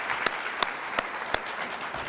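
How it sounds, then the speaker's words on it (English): An audience applauds Betsy Landers, the outgoing PTA leader, at a school event: a steady wash of clapping with a few sharper individual claps standing out at regular intervals. "please give a huge round of applause for Betsy Landers"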